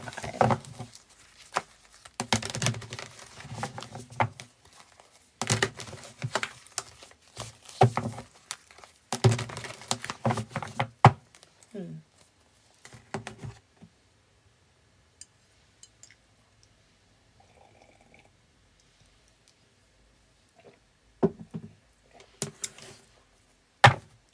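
Tarot cards shuffled by hand in quick bursts of dense papery patter, with pauses between riffles and a few sharper taps near the end.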